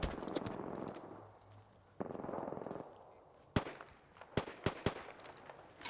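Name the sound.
gunfire in a video game (Apex Legends)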